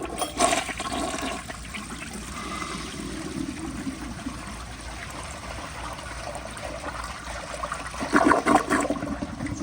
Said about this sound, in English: Here is another flush.